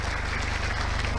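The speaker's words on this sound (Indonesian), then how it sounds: "Tepuk tangan untuk Pak Kemal" Applause from a seminar audience at a motivational training event, a dense wash of clapping that runs steady and fairly loud through the whole brief moment.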